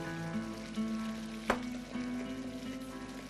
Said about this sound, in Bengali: চার মগজ পোস্ত, টমেটো পিউরি, এবার মাছটা দিয়ে দেবো এর মধ্যে।